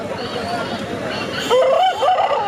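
A rooster at a market selling fighting cocks, turkeys and ducks crows once in a rising, drawn-out call near the end, over a busy crowd and nearby voices.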